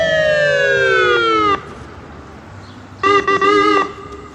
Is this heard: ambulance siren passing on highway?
yes